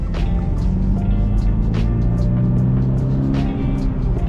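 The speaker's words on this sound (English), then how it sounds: "just second gear, nice and smooth" A 2024 Subaru BRZ tS cruises smoothly in second gear, its engine a steady, even drone with low harmonics from inside the cabin, holding a constant loudness with no talk.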